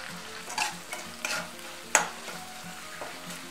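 Tomato tempering with turmeric and red chili frying in a pan, a quiet steady sizzle with rhythmic spatula scrapes and one sharp tap against the metal, close up with no talking.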